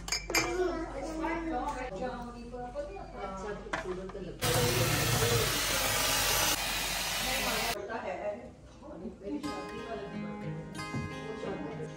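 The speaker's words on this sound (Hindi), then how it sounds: "मग धो रही है इसमें चाय बनाएंगे हम अभी" Running tap water gushes for a few seconds while a mug is washed and dishes clink, with people talking nearby before and after the splashing.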